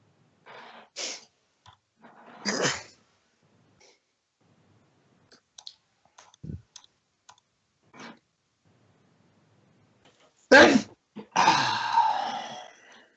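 A single sharp sneeze bursts out near the end, preceded by scattered quiet breaths, clicks and rustles in an otherwise silent room.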